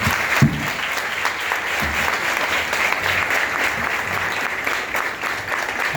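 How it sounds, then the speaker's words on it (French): An audience at a first communion in the Sainte Famille parish church in Akogbato claps for the parents, with dense, sustained applause from a large crowd throughout and a few voices faintly mixed in. "Je vous demande de vous lever et d'acclamer."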